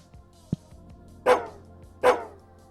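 Dog in the Psychopomp video game gives two loud, sharp barks about a second apart, preceded by a short soft thump, against a quiet low background with no talk.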